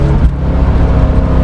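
A 1967 Chevrolet Corvette engine runs loud and close, a steady deep rumble with slight revving surges throughout and no talking.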